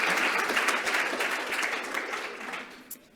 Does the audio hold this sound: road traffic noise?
no